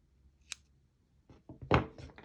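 Scissors snip crochet yarn in a quiet room: one small sharp click, then a short run of soft handling sounds and a louder closing snip with a light thunk, all close to the mic.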